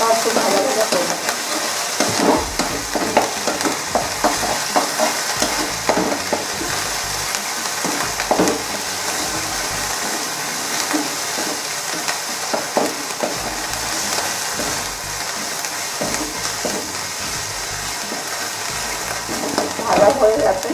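Ginger and garlic paste fries in oil over low gas for chilli chicken, a soft steady sizzle broken by repeated scraping knocks as a spoon stirs the pan. The cooking sounds are close and continuous throughout.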